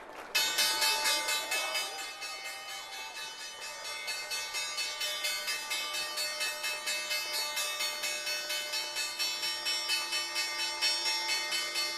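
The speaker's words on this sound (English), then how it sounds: "Time now for the closing bell." The closing bell rings on the trading floor of the New York Stock Exchange, a loud, rapid, continuous electric clang repeating steadily for about twelve seconds without letting up.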